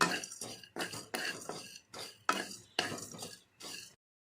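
Whole spices with fennel seeds dry-roasting over low heat in a pan for fried rice masala, heard as repeated close scraping and stirring strokes in an irregular rhythm, with no voices.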